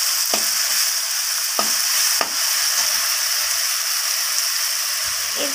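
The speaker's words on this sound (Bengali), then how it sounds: "রসুনটাকে সব কিছুর সাথে ভালোভাবে নাড়াচাড়া করে ভাজা ভাজা" Garlic fries in a pan under a steady, hissing sizzle, with a few distinct scraping strokes as it is stirred and no talking.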